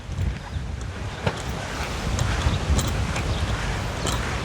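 Steady wind blowing outdoors in cold twelfth-month weather, a continuous rushing roar with gusts swelling and easing, no voices.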